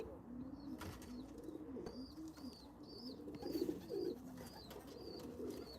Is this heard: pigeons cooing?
yes